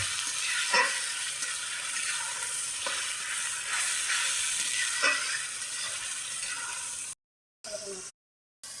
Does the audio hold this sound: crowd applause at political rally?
no